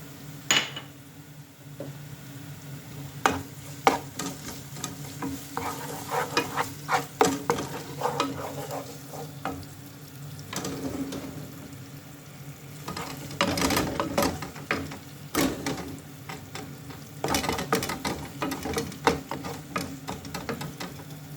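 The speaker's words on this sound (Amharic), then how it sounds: "ሽንኩርት ነጭ ሽንኩርት ከዘይት ጋር ያንቀላለሁ ነው።" Onion and garlic fry in hot oil for chicken samosa filling, a continuous close sizzle broken by repeated scraping and stirring strokes against the pan.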